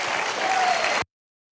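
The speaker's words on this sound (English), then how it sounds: "You got folks in there clapping their hands." An audience at CPAC claps in a dense, steady burst of applause that fills the hall for about a second, then cuts off abruptly.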